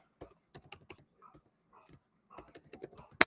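Computer keyboard keys typed in short, uneven bursts close by, with brief pauses between clusters and a sharp final keystroke; the room is otherwise quiet.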